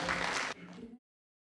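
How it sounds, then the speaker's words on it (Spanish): Brief applause from a seminar audience welcoming a female doctor to the podium, a dense burst that thins after half a second and stops abruptly within a second. "Recibimos con un aplauso a la doctora Juana"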